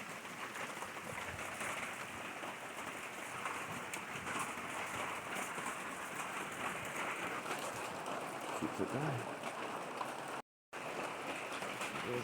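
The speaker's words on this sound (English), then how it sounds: "Hear the sounds of the morning rain." Steady morning rain falls in a dense, even patter throughout, with faint bird calls and a brief spoken phrase near the start.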